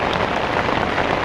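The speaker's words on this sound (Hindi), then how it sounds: "ये आवाज़ सुन रहे हैं आप बाहर? बहुत तगड़ी बारिश हो रही है" Heavy rain pours outside at night during a downpour near Kedarnath, a dense, steady hiss of drops drumming on surfaces, close and constant with no voices.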